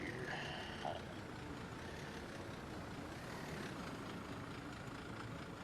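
A city bus engine from the game Cities in Motion 2 drones steadily as the vehicle drives down a road, a low, even hum with faint road noise and no talking.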